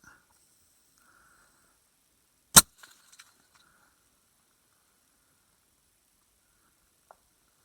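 A single sharp rifle shot cracks from a lightweight Christensen Arms MESA in 6.5 Creedmoor firing 143-grain ELD-X bullets at a target 1,077 yards away. The report is followed by a few faint echoes and then a quiet field.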